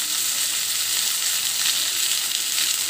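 Fish sizzles loudly in a pan with spices and a little water, a dense, steady, close crackling hiss that holds unbroken throughout.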